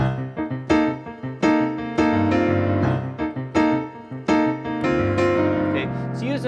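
Piano plays a run of minor 13 chords, each struck cleanly and left to ring before the next, in a steady sequence of sustained, rich voicings with no talking.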